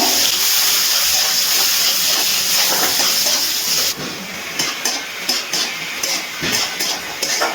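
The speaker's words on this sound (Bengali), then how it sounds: "পেঁয়াজটা ভালো করে ভেজে নেব" A chopped medium-sized onion fries in oil. A loud, dense hiss fills the first half, then the sizzle drops lower and breaks up into uneven crackles and stirring scrapes.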